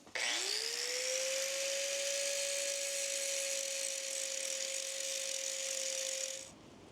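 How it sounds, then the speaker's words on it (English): An angle grinder grinding off a metal lip on a John Deere F525 mower: a steady, loud, high-pitched whine spinning up fast, holding a constant tone for several seconds, then cutting off abruptly. "I'm just gonna take a angle grinder and try and take off as much of this lip as I can"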